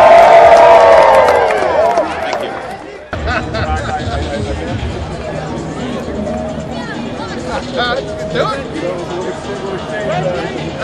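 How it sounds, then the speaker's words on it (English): A crowd at a Wii U launch event cheers and claps for the President of Nintendo of America, loud at first, then dropping into a lively babble of chatter and scattered cheers. "One more time, a round of applause for the President of the Nintendo of America."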